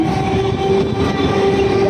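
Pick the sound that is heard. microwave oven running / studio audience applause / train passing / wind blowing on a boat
train passing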